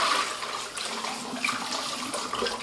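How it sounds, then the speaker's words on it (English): Running tap water rinses a mixing utensil in a kitchen sink during muffin baking, a steady close hiss of splashing water throughout. "Hold on, I'm going to go ahead and give this a quick rinse."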